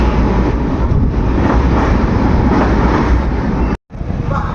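The 12711 Pinakini Superfast Express from Vijayawada to Chennai Central runs with a loud, dense, continuous rumble and roar, broken by a brief gap near the end before the noise resumes.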